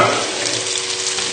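Pesto is stirred into sausages frying in a pan, giving a close, loud, steady sizzle with a soft hiss throughout a brief moment, with no voices over it.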